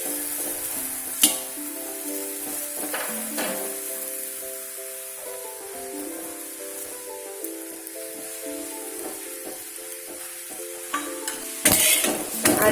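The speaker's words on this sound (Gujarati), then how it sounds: "આ રીતે બંને સાઈડ શેકીને તૈયાર કરી લઈએ।" Farali dhebra, a fasting flatbread, roasts in oil on a pan with a continuous soft sizzle, broken by spatula scrapes and light metallic clinks, while a steady tonal hum sits underneath; a louder clatter of handling comes near the end.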